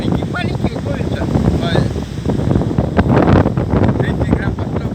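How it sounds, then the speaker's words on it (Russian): A strong northern wind buffets the microphone with a constant rough roar at a fishing spot, and people can be heard talking over it. "Ветер такой страшный."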